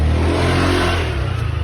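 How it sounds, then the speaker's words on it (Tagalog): A nearby motor vehicle engine revving loudly as it passes at a school event, a strong low rumble that wavers toward the end, with no talk. "may motor"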